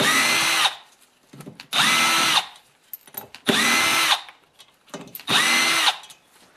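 An impact wrench loosens T27 Torx bolts on the engine of a Stihl 4-MIX BR500/BR550/BR600 leaf blower. It fires four loud, close bursts of rattling whir, each separated by short pauses filled with small clicks and handling noises.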